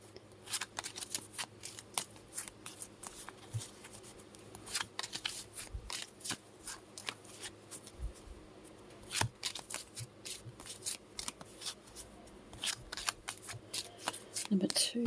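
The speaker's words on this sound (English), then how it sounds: "I'm going to shuffle here first to give it a really good shuffle" A deck of cards is shuffled again and again, with quick crisp riffles and snaps in a steady run, close and clear, with no talking.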